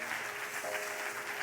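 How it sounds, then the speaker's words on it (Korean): A church congregation applauds during a Sunday worship service, a steady wash of clapping hands filling the room for a short burst with no talk over it. "박수 해주세요."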